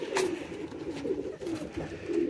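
Sheikh-wale pigeons coo in soft, low, repeated phrases, close by and with no voices over them.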